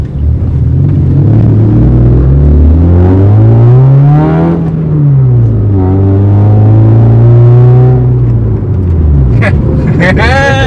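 A 2012 Honda Jazz RS i-VTEC pulls away after the clutch is let out, its engine note rising, dipping and climbing again through a long loud acceleration, with someone talking over it close by.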